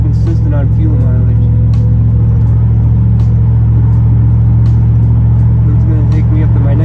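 A V8 car nicknamed Big Bertha accelerates to highway cruising speed, a steady loud low engine rumble from inside the cabin with someone talking over it.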